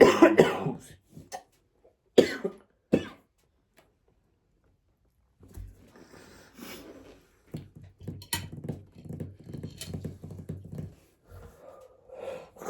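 A person coughs in a few sharp bursts near the microphone, close and fairly loud, followed by quieter rustling and clattering handling sounds.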